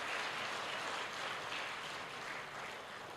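A large audience at a spiritual talk in Ranchi claps continuously, a faint, uniform hiss of distant applause filling the whole stretch without any speech.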